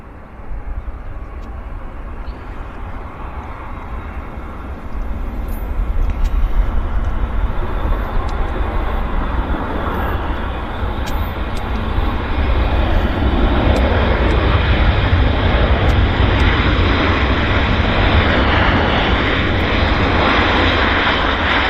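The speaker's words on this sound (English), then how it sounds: "This is the United Airlines about to land." United Airlines airliner landing at Vancouver airport, a loud broad jet roar that swells after the first few seconds and stays strong and steady, heard from nearby with no talk.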